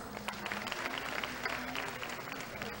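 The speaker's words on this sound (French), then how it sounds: "Ronel Antoine, sous vos applaudissements." Audience applause at a Miss USB 2016 beauty pageant finale in Haiti, a steady wash of clapping from a crowd that runs the full length, moderately loud with a faint hum beneath.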